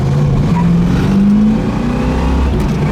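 A 1974 Chevrolet Camaro Z28 accelerates hard, its loud engine note rising steadily in pitch, alone and close, with no clear tire chirp standing out.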